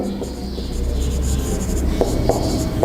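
Chalk or marker scratching and tapping across a classroom board during a mathematics lesson, in short strokes with a few sharper taps, close and fairly loud against a low room hum.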